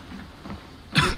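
Character in Assassin's Creed Valhalla who is sick, giving a single short cough or throat clear at the end after a quiet stretch, fairly close.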